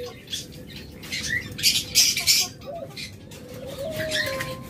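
Pet lovebirds and budgerigars in cages give repeated close chirps and short calls in bursts, with a soft cooing note, and a person talks over them.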